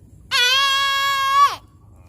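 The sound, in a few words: voice imitating an elephant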